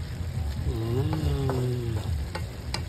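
Vegetable lumpia, lumpiang gulay, sizzle in hot oil while being half-cooked, making a steady close crackle throughout, with a voice briefly talking over it.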